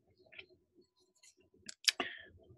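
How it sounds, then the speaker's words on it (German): A Microsoft Surface keyboard is detached with a few soft clicks and a sharper snap near the end, close and quiet against a near-silent room. "ich mache jetzt die Tastatur ab"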